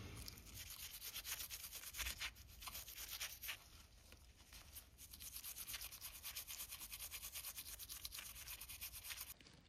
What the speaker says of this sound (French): Et une petite brosse à dents.